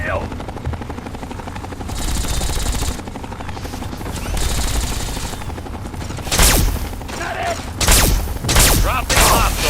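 Gunfire in the video game Fallout 3, with rapid bursts of shots over a steady helicopter-like drone. The firing grows into loud, sharp volleys toward the end, and voices shout beneath the din.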